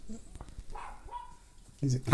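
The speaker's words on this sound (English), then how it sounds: "Sounds like the dogs are out." A dog barks in a front yard, a few short barks heard at a distance beneath people talking nearby.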